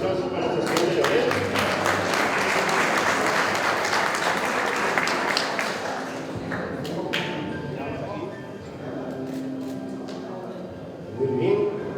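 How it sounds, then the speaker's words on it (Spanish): Loud sustained applause for graduating student Leonel at a motorcycle and vehicle mechanics graduation ceremony, dense clapping that thins gradually toward the end with a short burst near the close. "Fuerte los aplausos para nuestro estudiante Leonel."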